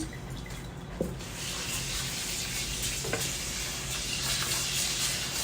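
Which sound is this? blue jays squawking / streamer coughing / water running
water running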